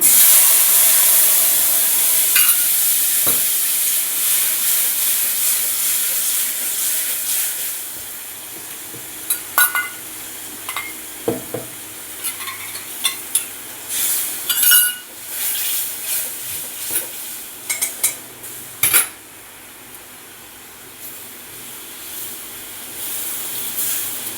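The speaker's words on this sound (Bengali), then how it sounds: "যে সর্ষে পোস্ত আর কাজু বেটে নিয়েছিলাম এটা দিয়ে দেবো" A paste of ground mustard, poppy seed and cashew goes into a hot pan while cooking rui fish, hissing in a loud steady sizzle that gradually settles, with scattered clicks and pops near the microphone.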